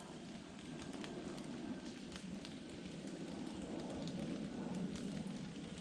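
Steady rain patters on the leafy forest canopy overhead at an off-trail campsite on Kings Mountain, a continuous broadband hiss with scattered louder drops and no talking.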